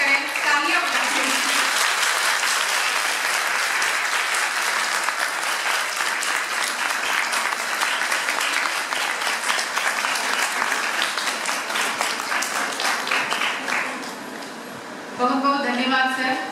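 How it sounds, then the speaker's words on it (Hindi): Sustained audience applause at a school event, a loud, dense clatter of many hands that holds steady for most of the stretch, dips briefly near the end, then resumes. "तालियां बजाएं।"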